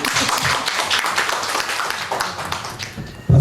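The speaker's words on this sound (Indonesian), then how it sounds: "Tepuk tangan dong." Audience applause at the launch event for Goodrive and Goospeed, a dense, steady wash of clapping from a crowd in a room, continuous for about three seconds before a sudden louder burst at the very end.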